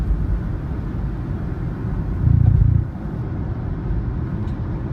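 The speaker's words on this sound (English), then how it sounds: "that warning is the same sound you would get with rumble strips" A low, steady road rumble from inside a moving Renault, swelling into a louder buzzing rumble-strip-like lane departure warning vibration for about half a second before settling back to the drone.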